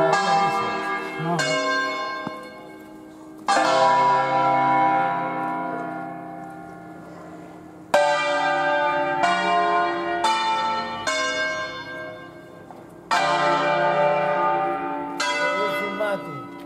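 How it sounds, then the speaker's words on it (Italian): Church bells in Presezzo, Bergamo, ring in a solemn peal, with strikes landing in irregular clusters, each struck bell ringing on and fading before the next strokes. The sound is loud and resonant with no talk over it. "Campane. Campane."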